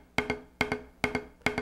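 Drumstick double bounces with a relaxed fulcrum, four close, bright pairs of strikes where each pair's two hits are clearly spaced apart, repeating at a steady pace with no voices.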